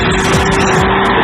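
A Ski-Doo Mach Z snowmobile with an 800 triple-cylinder engine roars loud and close in a brief, steady high-revving blast.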